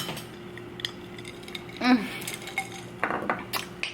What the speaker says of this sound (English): I have to stir it with a spoon